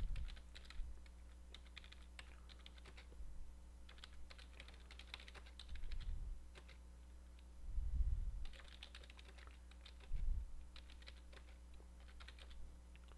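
Quiet computer keyboard typing as ESXCLI commands are entered, in soft, scattered bursts of keystrokes over a steady low electrical hum, with occasional low thumps.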